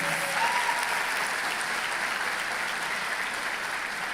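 Sustained applause from a large crowd at a Christian worship conference, a dense steady wash of clapping that continues throughout.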